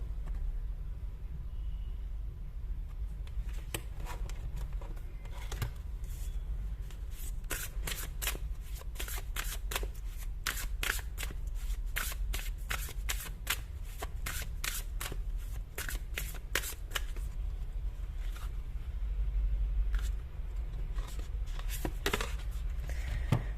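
Tarot cards shuffled by hand in long runs of quick riffling flicks, close and steady throughout with only brief pauses and no talking.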